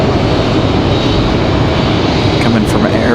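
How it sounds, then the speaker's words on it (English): American Airlines Boeing 777 on final approach at Raleigh-Durham International, a loud, close, continuous jet roar filling the whole moment, with a voice talking over it. "We've got the American 777 on final."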